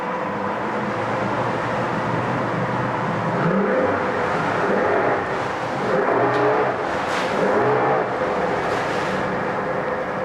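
A 2003 Yamaha 150hp two-stroke outboard motor with a 25-inch shaft runs in gear, probably in a test tank, giving a steady loud mechanical drone with slight swells in pitch and intensity throughout.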